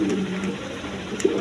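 A pair of Mundian pigeons coo in low, steady murmurs with a brief louder note near the end, close by and with no talk over them.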